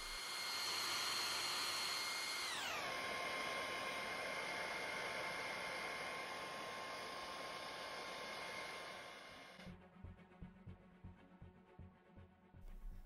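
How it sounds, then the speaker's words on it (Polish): Hair dryer blowing on a Mio MiVue 358 dashcam's glass panel, a steady loud whooshing hum that drops in pitch as it changes speed, then shuts off leaving light handling clicks. "Aby zdjąć szybkę bez uszkodzenia, warto ją podgrzać suszarką do włosów."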